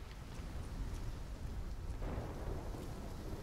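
Stormy weather in the Call of Duty Black Ops 3 campaign: a steady wash of heavy rain with low rumbling thunder rolling underneath, continuous and fairly loud throughout, with a slight swell partway through and no talking.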